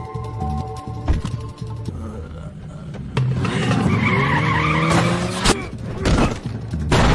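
A car tears away with loud tire squeals and skidding in a film chase scene, engine roaring over several seconds with sharp impact-like bursts near the end.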